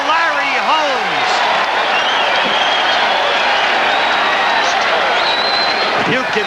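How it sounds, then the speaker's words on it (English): At a boxing match between Larry Holmes and Ken Norton, the arena crowd stands cheering in a dense, loud roar of voices and applause that carries throughout, with whistles rising above it. "The crowd on its feet cheering for Larry Holmes."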